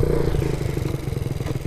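A small Honda Dax motorcycle engine runs close by with a fast, even putt-putt pulse after being kick-started, steady and fairly loud with no talking.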